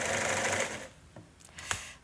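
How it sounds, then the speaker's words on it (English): A sewing machine stitches fabric covers for eiderdowns, its loud whirring run stopping after about a second, followed by a few faint clicks and taps from the machine. "Her sewing machine is playing up."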